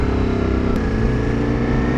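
A Ducati Multistrada V4S motorcycle engine drops in pitch as it downshifts in traffic, a steady loud rumble throughout.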